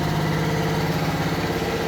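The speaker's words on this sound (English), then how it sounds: "engine fan is always on" A Citroen C4 engine runs steadily with its cooling fan stuck on, a continuous close mechanical hum and whir with no pauses, from a car with an overheating fault.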